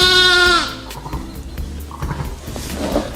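An adult sheep gives one loud, close, drawn-out bleat with a strong wavering tone at the start, followed by quieter farmyard rustling and low background noise, with no speech.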